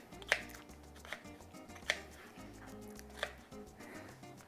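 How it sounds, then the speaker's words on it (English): A knife chopping ingredients on a board for chicken watermelon tacos, three or four distinct sharp chops spaced about a second apart, faint and close, with a low background hum. "so we'll go ahead and chop these babies"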